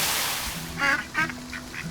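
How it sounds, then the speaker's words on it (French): Little ducks quacking in the farming game Farm Together, several short nasal calls in a loose sequence over soft game background music, no talking. "On a les petits canards."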